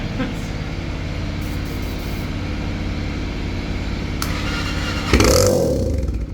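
A clapped-out Honda 400ex ATV engine, exhaust open, running at a rough steady idle that builds toward a sharp, loud rev burst near the end, close by.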